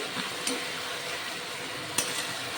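Fish simmering in a thick vinegar gravy (macher dom) is stirred in the pan, with a steady soft sizzle broken by two sharp utensil clinks against the pot.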